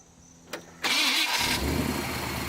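A used car engine with a slight exhaust issue cranks briefly, catches and settles into a steady, close idle with a loud, even rumble and no talking.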